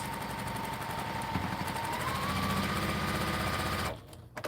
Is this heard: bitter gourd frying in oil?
no